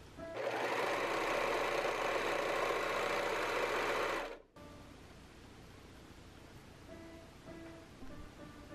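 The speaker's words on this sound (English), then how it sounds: "For an exposed seam, I switched from 4-thread serging to 3-thread serging." A serger doing 3-thread serging runs in one loud continuous burst of rapid stitching for about four seconds, then stops abruptly, leaving quiet room sound with a few faint tones.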